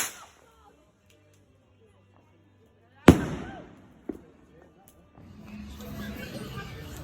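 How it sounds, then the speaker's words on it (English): A firework rocket goes off at a bonfire night display: a sharp loud bang followed by crackling, then a smaller pop and rising crowd murmur, with quiet voices nearby beforehand. "Rocket this one"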